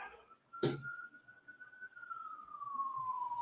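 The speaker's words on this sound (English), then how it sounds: "You're hearing all them fucking sirens." A single emergency siren wails through a downtown street at midnight, its steady tone drifting slowly downward as the vehicle passes, following a brief sharp knock near the start; moderately distant, no voices.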